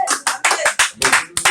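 Church congregation at a revival worship service applauding the preacher, several sharp bursts of many hands clapping together in a rapid, rhythmic beat, loud and close.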